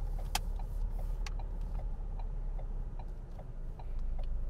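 A car's turn signal indicator ticks in a steady, regular rhythm inside the cabin, faint and clear over a low engine rumble, with no talking.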